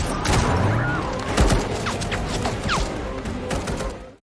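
Gunfire in an Indonesian action film chase, with police blocking a road: sharp cracks and thuds over a dense, loud bed of crashing, mechanical action and music that fills the whole stretch.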